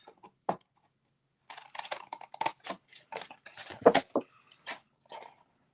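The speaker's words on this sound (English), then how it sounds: "I just want you to cut up along the long sides all the way up to the score line." Card being cut along score lines with dull scissors, a series of short crisp snips in uneven bursts, close and fairly quiet, with a brief pause near the start.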